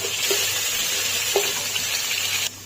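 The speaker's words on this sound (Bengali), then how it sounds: "তেল গরম করে নিয়েছি, দিয়ে দিয়েছি কাঁচা লঙ্কা আর গাজর, আর এখন দিয়ে দেবো ক্যাপসিকাম" Capsicum, green chilli and carrot fry in hot oil with a close, steady sizzle and a couple of faint pops. The sound cuts off abruptly near the end.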